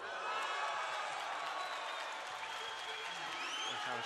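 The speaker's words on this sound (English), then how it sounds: "Where the crowd like it, they're all cheering him" A crowd at the 2015 World Taekwondo Championships semi-finals and finals applauds and cheers steadily from a distance, a dense, continuous wash of clapping, with a commentator's voice faintly over it.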